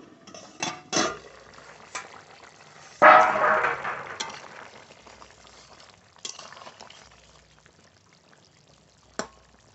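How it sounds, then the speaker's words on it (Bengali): A lid is lifted from a pot of eel and potato curry, with a clatter and a brief burst of bubbling sizzle among scattered clinks of cookware, fairly close. "ঢাকনা তুলে দেখব তরকারি কত দূর হয়েছে"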